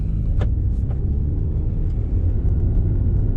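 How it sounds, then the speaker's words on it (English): A 2019 Alpine A110 mid-engine car on the road, heard from the cabin with the engine right behind the seats: a loud, steady low rumble of induction and combustion under way, with a few brief higher whooshes of turbo noise. "you get to hear all of the induction noises, the combustion even, and the turbo whistling and everything right behind your shoulder"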